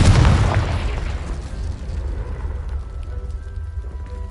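A Confringo blasting spell explodes in a Harry Potter video game: one loud, close booming blast that fades into a long rumbling, debris-filled tail.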